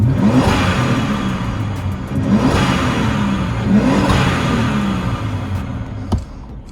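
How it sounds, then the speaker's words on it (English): A second-generation Toyota Tacoma fitted with a ProCharger supercharger drives along, its engine revving up and down in repeated pulls with a whirring supercharger whine, loud and close with no talking. "the best sounding supercharger that you can put on the second generation Tacoma"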